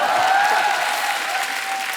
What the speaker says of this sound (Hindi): ये जब तालियां मारते हैं ना